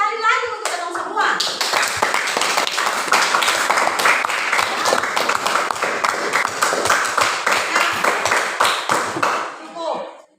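Sustained applause fills a classroom, dense rapid clapping from a group of students at a steady, loud level for about ten seconds before fading out at the end.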